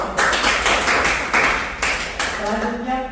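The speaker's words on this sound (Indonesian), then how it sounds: "Tepuk tangan." Hands clapping in a classroom as a group applauds, a dense run of claps at steady loudness that fades toward the end while a voice comes in.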